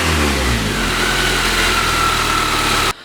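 A car fitted with an FKXRacing ram air intake revs its engine, a loud rising roar that climbs and holds before cutting off abruptly near the end.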